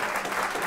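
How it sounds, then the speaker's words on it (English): Applause from an audience at an HBCU education forum, a dense, steady clatter of many hands. It is brief and fairly soft, heard alone without talk. "Yeah, that deserves an applause."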